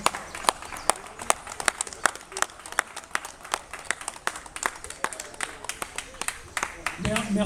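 An audience applauds a pétanque club at an award ceremony, with steady, evenly paced clapping that continues throughout while a voice speaks over it.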